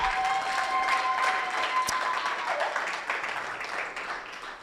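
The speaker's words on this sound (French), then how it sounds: "Est-ce qu'on peut acclamer le Seigneur?" A church congregation applauds and cheers loudly in a steady, dense wash of clapping that gradually thins and fades toward the end.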